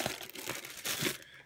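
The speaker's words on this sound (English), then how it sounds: "plastic bags with air in it." Plastic air-filled packing bags from an Amazon delivery box crinkle and crunch as they are handled, with two louder bursts of rustling over about a second and a half, close to the microphone, with no talk.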